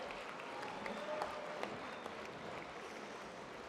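Applause from a banquet audience at a football awards dinner, a steady wash of clapping from a large crowd in a hall, moderately loud and continuous with a little scattered talk underneath.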